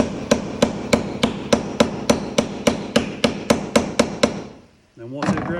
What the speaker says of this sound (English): We're going to peck on this. As I'm pecking in, I'm turning counterclockwise on this to remove the bolt.